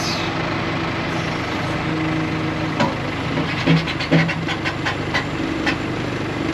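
A backhoe engine idles at a job site, a steady low diesel rumble with a droning hum throughout, joined midway by a cluster of clanks and knocks, fairly loud and close.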